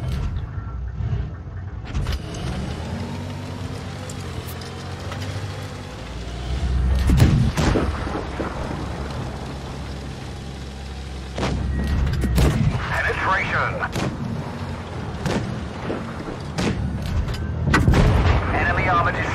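Tank cannon shots in World of Tanks Blitz, from a Centurion Mk. 5/1 RAAC battle, booming in several loud bursts over a constant rumbling engine bed, with game voice callouts heard between the blasts.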